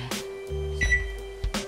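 An oven control panel gives a short, faint electronic beep while the baking temperature is set, against a quiet kitchen background with no talking.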